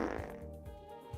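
A fart in the AutoForge game, a low, faint, rumbling burst with fluttering pulses that trails off over about a second.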